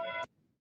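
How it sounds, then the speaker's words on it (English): A classic doorbell rings once with a bright, chiming tone that stops abruptly after about a quarter second, leaving only faint room noise. "that's a doorbell"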